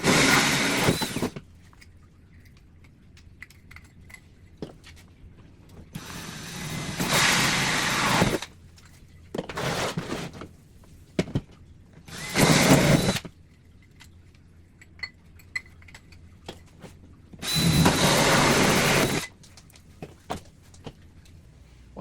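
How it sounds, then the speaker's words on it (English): A drill with a standard 2-inch hole saw cuts holes into a cage panel in several loud bursts of a few seconds each, separated by quiet pauses and small clinks of handling, close to the microphone. "I'm just going to drill them out."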